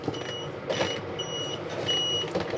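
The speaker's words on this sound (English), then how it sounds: "That's just to say that beeping is just off the fridge, just to say that the door is not shut properly" Fridge door-open warning inside a 2021 Auto Trail Imala 625 motorhome, a series of faint, thin electronic beeps repeating at irregular intervals over quiet background noise.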